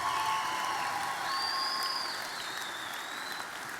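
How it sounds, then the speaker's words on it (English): Sustained applause from an audience saluting contestants at a young farmer competition grand final, a dense wash of clapping that holds for several seconds and slowly eases off slightly toward the end. "Let's give them one more round of applause."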